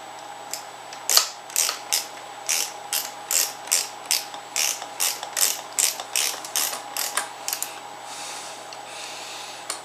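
A ratchet tightens a pinch bolt on a KTM 500 XC-W steering stabilizer, giving about eighteen crisp, evenly spaced clicking strokes, close and clear, in a quiet room with no talk.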